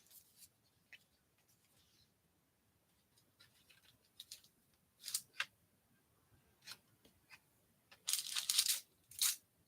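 Paper being cut to size for a handmade card gives quiet, sparse snips and rustles, with a few sharper crisp cuts and slides standing out near the end in an otherwise hushed setting.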